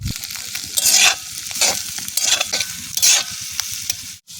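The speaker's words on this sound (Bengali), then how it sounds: "সবজিগুলোকে খুব ভালো করে ফ্রাই করে নিতে হবে" Vegetables for village-style veg chowmein fry with ginger-garlic paste in a pan, a loud steady sizzle broken by repeated scraping stirs in an uneven rhythm, close up and without talk.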